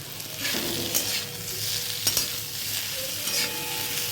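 Potatoes with spices are stirred in a frying pan, a close, continuous oily sizzle broken by scraping spoon strokes against the pan, with no voices.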